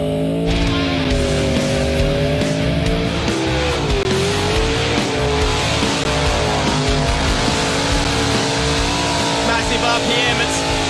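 A Mustang does a high-RPM burnout at Summernats in Canberra, the engine screaming at sustained high revs with a brief dip, tires squealing, loud and continuous, with an announcer talking over it.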